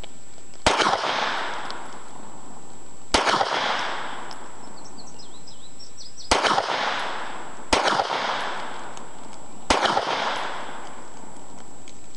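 Suomi M31 submachine gun fired slowly in single shots: five loud, sharp cracks spaced a couple of seconds apart, each with a short ringing decay and no voices between them.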